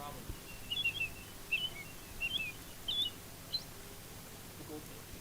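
A man imitates the call of an American robin, whistling a series of four or five short, bright chirping phrases spaced evenly apart, clear over quiet low background noise.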